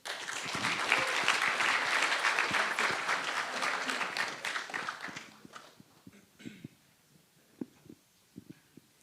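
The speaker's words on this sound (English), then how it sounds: "a big applause, please, for Managing Director at Letzplay, Mr. Julien Gratz." An audience at a fintech panel event applauds an introduced managing director, dense clapping for about five seconds, then tapering to scattered, sparse claps.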